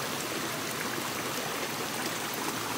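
A steady, dense rush of flowing water, like a fast stream, fills the clip evenly without pauses or voices.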